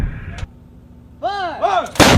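An M777 light towed 155mm howitzer fires, a single sharp, loud blast near the end after a short burst earlier and a stretch of quiet, with brief tonal whistling sounds in between.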